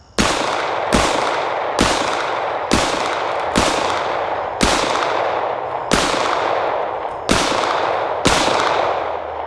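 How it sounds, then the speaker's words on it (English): Sig P220 pistol fired repeatedly at a range, about ten sharp, loud shots spaced roughly a second apart, each with a brief ringing decay. "we're gonna have to get some more rounds into that pistol"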